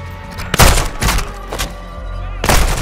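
Gunfire in Call of Duty: Modern Warfare II on PlayStation 5, a few heavy shots and bursts booming close amid a tense game soundtrack.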